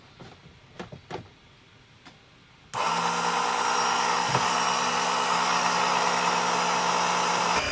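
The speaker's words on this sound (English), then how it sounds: "let's see if our little pump rig works" After a few light clicks and taps, a small pump rig whirs on abruptly and keeps a steady high-pitched motor drone while pulling oil from a Yamaha 252XE jet boat engine, close up and without speech.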